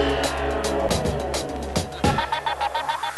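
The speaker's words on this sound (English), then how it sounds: "It maneuvers around corners and gas stations with an advanced V6" A Ford Flex with a V6 engine and 6-speed automatic moves through corners, its engine note rising and falling under a steady drone, with brief sharp transient bursts and a voice talking over it.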